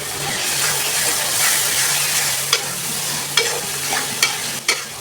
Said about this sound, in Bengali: এখন আমি চিংড়ি মাছগুলো ভালোভাবে কষিয়ে নিব।